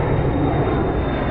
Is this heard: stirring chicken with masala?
no